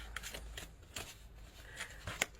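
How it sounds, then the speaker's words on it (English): A deck of tarot cards being cut and handled, several quick soft riffling and slapping card sounds close by and fairly quiet. "One more card, and then we will cut the deck."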